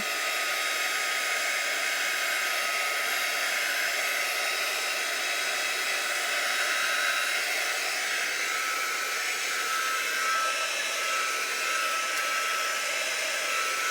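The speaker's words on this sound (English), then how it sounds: "heating tool, heat gun. I'll try that real quick." A heat gun drying lightly brushed gesso on a large index card, giving a steady, close, blowing whir that holds an even level throughout with no pauses and no talking.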